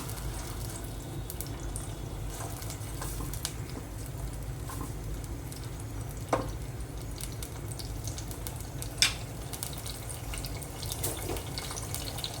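Tomato puree fries in oil for a potato chicken curry, partly covered with a lid, giving a continuous close hiss broken by occasional sharp spits and pops, with no voices.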